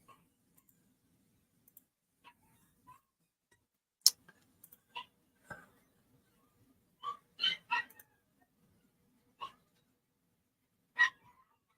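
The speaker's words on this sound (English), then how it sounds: "you probably hear my dogs barking in the background" Dogs bark sporadically in the background outdoors in Erwin, Tennessee after flooding, short sharp distant yaps scattered across a quiet scene with occasional clicks and pauses between barks.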